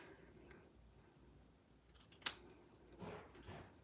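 Scissors trimming paper for a paper craft, a faint quiet snip near the middle of the clip against soft room noise.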